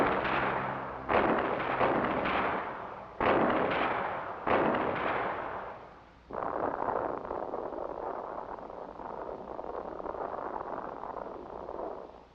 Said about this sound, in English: This is GEPOD 30, a lightweight, self-contained gun pod designed and built to give tank-killing capability